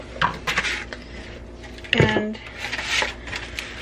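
Metal scraping and clinking as keto pie dough is scraped off a pan, a few short rattles with one sharper scrape near the middle, close and fairly loud, with a voice speaking briefly.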